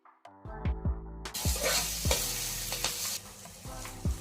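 Coriander hits hot oil in a tempering for dal khichdi, bursting into a loud crackling sizzle amid repeated sharp spoon taps against the pan, close and continuous.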